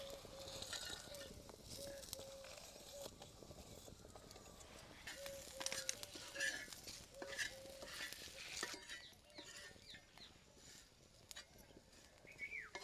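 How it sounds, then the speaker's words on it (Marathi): Garam masala spices dry-roasting and being stirred in a pan for a rustic village chicken dish, with steady scraping, stirring and light sizzling close up, along with occasional clinks and a recurring faint tone. "आता थंडा गरम मसाला भाजून घेतो."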